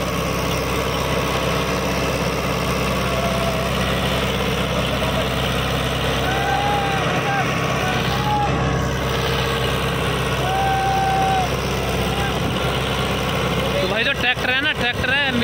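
A tractor in four-wheel drive, in the second gear of the medium range, runs with a steady, droning low engine note close by, and a voice briefly speaks over it near the end.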